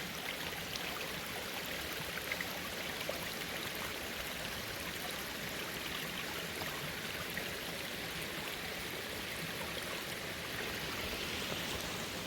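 A forest stream flows steadily beside a patch of chanterelle mushrooms, giving a continuous, even rushing and babbling wash of water at a moderate, unchanging level throughout.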